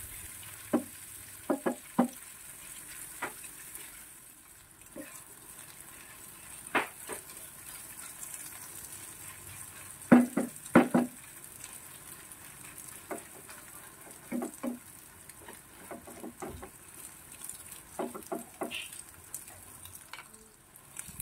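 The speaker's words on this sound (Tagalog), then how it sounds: "ilalagay na natin yung hotdog. Ayan, pipritunin natin ito." Hotdogs frying in melted butter in a kawali, a soft steady sizzle with scattered clicks and scrapes of stirring, fairly quiet and with no talk over it.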